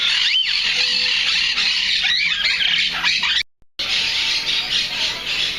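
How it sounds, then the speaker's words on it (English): Noisy birds at an animal exhibit give loud, shrill squawks nearby, repeating over a constant chattering din with a brief drop in sound partway through. "Beautiful bird here."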